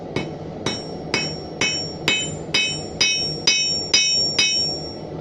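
A hammer strikes hot metal to flatten the end of a forged nail hook, ten evenly spaced ringing blows at a steady rhythm, close and loud, with a bright metallic ring after each hit.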